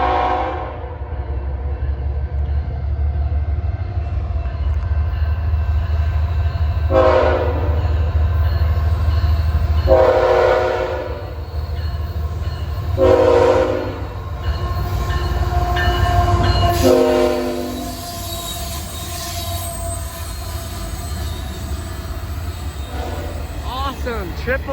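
KCS, CPKC and CP freight locomotives hauling a potash train pass close by with a steady heavy rumble, while several loud horn blasts sound in a short series.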